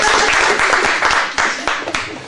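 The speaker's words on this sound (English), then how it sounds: "Everyone give them a round of applause." Audience clapping for freshers and older students at a Swansea Met student gathering, a dense burst of applause with some louder individual claps rising out of it over a couple of seconds.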